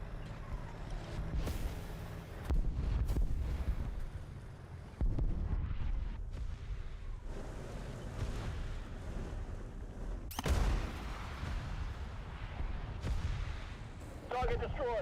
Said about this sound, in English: Artillery barrage on your sector.